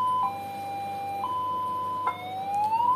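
Siren module CJB 200W running its first mode through an LED lightbar LB2000: a steady electronic tone with brief blips, then a rising wail near the end, sounding alone and loud.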